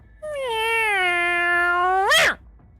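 A person imitates a cat's meow in a single drawn-out, nasal, tonal cry lasting about two seconds, ending in a rising squeaky flourish, loud and close with no other sounds.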